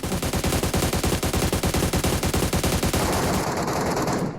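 Sustained automatic gunfire in the mobile battle royale game PUBG Mobile, a loud, rapid and continuous burst of shots that fills the whole clip and cuts off near the end, with no talk over it.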